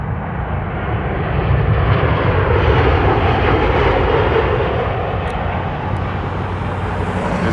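Southwest Airlines jet airliner passing overhead above Las Vegas, a steady, loud, broad engine roar that holds level throughout without fading, with no talk over it.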